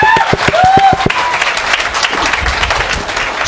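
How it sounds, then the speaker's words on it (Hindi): Loud applause from a seminar audience in Surat, starting over a voice at the front and then filling the room as a dense, steady wash of clapping. "जोरदार क्लैपिंग"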